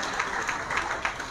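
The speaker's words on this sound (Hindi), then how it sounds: "जोरदार तालियां बजाएं, आचार्य जी का अभिनंदन हो रहा है" A rally crowd at a BSP political gathering in Kannauj applauds a dignitary, the clapping a dense, steady wash with a few louder bursts, fairly distant and moderately loud.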